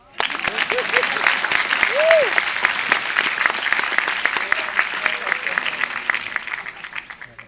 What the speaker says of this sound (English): That clap deserves a little help.